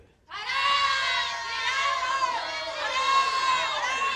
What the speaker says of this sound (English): There's an enormous crowd out there.